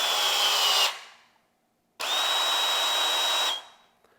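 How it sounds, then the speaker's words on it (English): A Ryobi pinch clamp tool crimps a PEX pinch clamp in DIY plumbing, two steady motor whirs about a second long each, separated by a brief silence, close and fairly loud. "holds it, and then releases automatically, and it gives you this pinch clamp"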